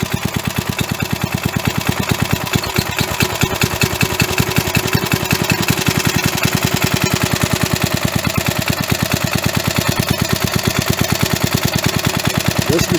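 An old 1980s Briggs & Stratton small engine runs steadily just after being started, a loud, close, even rapid chugging that carries on without a break.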